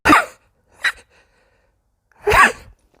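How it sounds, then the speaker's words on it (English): A person sneezes in a short burst: a sharp intake of breath, a brief catch, then a loud explosive sneeze close to the microphone, with silence between. "now I'm about to sneeze because this always happens"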